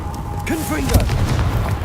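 A single Confringo blasting-spell explosion in Hogwarts Legacy, a short muffled boom under a game voice and background score.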